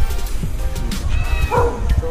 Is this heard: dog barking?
yes